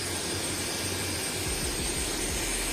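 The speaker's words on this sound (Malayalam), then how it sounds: "ഓണായിട്ടുണ്ട് നമ്മുടെ ഹെലികോപ്റ്റർ." A toy remote-control helicopter runs with a steady, close motor whine and a faint rotor flutter that stays constant throughout.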